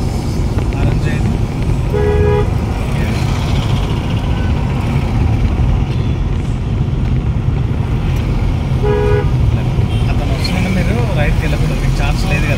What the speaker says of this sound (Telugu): దానికోసం 1 or 2 times హారన్ చేయాలి.